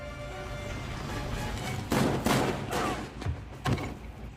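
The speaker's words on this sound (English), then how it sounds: "Oh, he shot Steve." Gunfire from the Marvel's What If animated episode, a few loud, scattered bangs and impacts that rise out of a low rumbling background, heard without talk.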